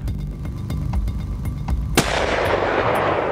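Gunfire outdoors during a hunting-style session: a series of light pops under steady background noise, then one loud sharp shot followed by a long noisy wash of sound as it rolls away.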